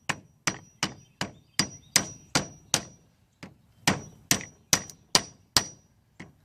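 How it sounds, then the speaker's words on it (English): Hammer knocking a car battery terminal connector into place, about fifteen sharp metallic strikes in quick, steady runs with a short pause midway, loud, ringing and close, with no talk. "we can actually knock it in with a hammer"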